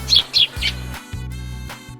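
A sparrow gives three quick, bright chirps close by, followed by a low electronic drone and faint background tones.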